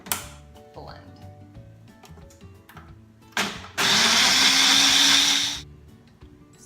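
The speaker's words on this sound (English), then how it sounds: "I'm going to blend this just with the figs and the balsamic to begin with" A blender grinds figs with balsamic vinegar, roaring loudly and steadily for about two seconds before cutting off, with quieter kitchen clatter on either side.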